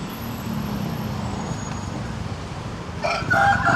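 Chickens at a roadside coop in Pathum Thani, Thailand, heard over a constant rumble of traffic, with a rooster's crow rising clearly near the end.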